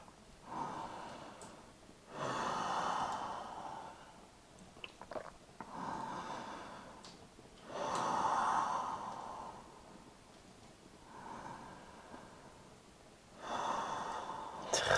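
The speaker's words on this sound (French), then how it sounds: "on va juste prendre quelques respirations" Slow, deep breaths in a yoga lizard pose, long audible inhales and exhales recurring every few seconds, close and soft, with no talking.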